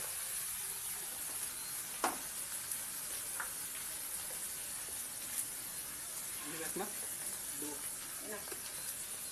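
Water poured into a hot pan while small-fish curry cooks, giving a steady hiss and sizzle throughout with a few clinks and spoon sounds, and a voice speaking softly over it.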